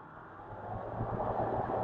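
The Rotax 916 turbo engine of a Kitfox Super Sport light aircraft builds from a low cockpit rumble into a stronger, rising drone as it accelerates down the runway on takeoff.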